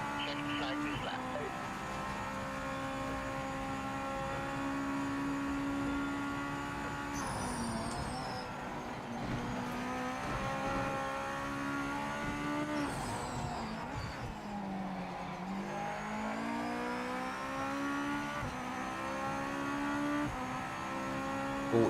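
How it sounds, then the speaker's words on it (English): Race car engines whine and shift continuously in Project Motor Racing, with rising and falling revs, gear changes and tyre noise, steady and close, while someone talks over it. "Starting to get a bit more grip now that the tyres are starting to."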